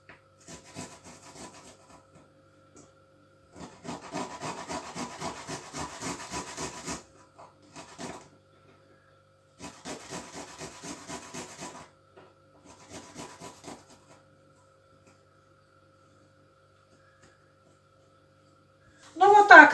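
Garlic cloves grated by hand on a kitchen grater, a rapid rasping scrape in several bursts of steady strokes with short pauses between, fairly close; a voice speaks briefly at the very end.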